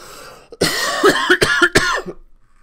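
A man coughs several times in quick succession, a cluster of harsh, throaty bursts close to the microphone, then trails off into quiet.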